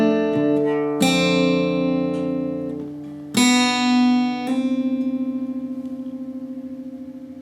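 An acoustic guitar plays the closing bar of a song: a few ringing strummed and plucked chords with long, bright sustain, the last one followed by a trembling, wavering decay.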